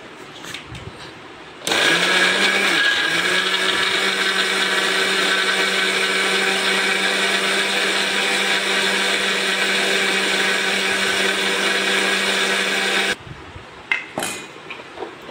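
A blender purees mango into a smooth paste for juice, its loud, steady whir starting abruptly and running unbroken for about eleven seconds before cutting off.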